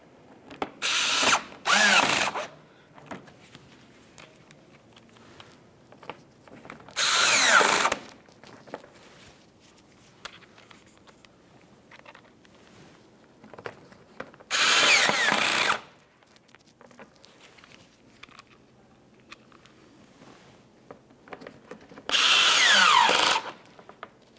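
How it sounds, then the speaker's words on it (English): Power drill driving Phillips head screws into the front bumper cover of a 2012-2018 Nissan Altima, four separate bursts of whirring spaced several seconds apart, with quiet handling noises between them. "Continue on with your Phillips head screws."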